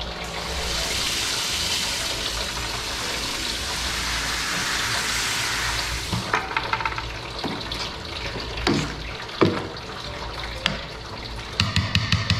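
Grain mashed into hot water in an electric homebrewing setup for a hefeweizen: a steady rushing pour of water for about six seconds, then scattered knocks, clatters and splashes from stirring and handling equipment.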